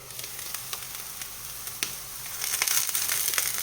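Food sizzles steadily in a frying pan over medium heat as it starts to caramelise, a continuous close crackling hiss with scattered sharp pops that grows a little louder and busier toward the end.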